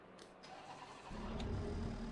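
A race car engine in Assetto Corsa Competizione cranks over faintly, then catches at about one second and settles into a loud, rough, uneven idle.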